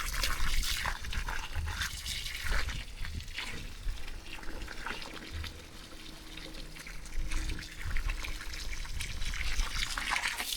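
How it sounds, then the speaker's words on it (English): Water pours and trickles onto garden plants at the top of a garden, a steady splashing wash that carries on without talk. "After this, I'll go and water my plants at the top of the garden."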